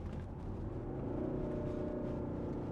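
Volvo V70 2.4 D5 diesel engine in sport mode on a 2014 Geartronic estate, a steady low droning rumble heard from inside the car, continuous and fairly loud with no talk.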